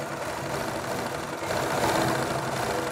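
Sewing machine stitching folded dori piping onto fabric, a steady continuous mechanical whir running at a constant pace, growing slightly louder midway through.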